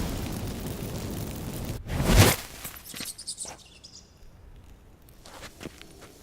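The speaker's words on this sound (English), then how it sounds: "Get ready for some magic fireworks." A magic fireworks effect from the video game The Witcher 3: Wild Hunt, a sharp loud burst followed by scattered fizzing crackles and faint chirping sparkles that fade away, with no talking.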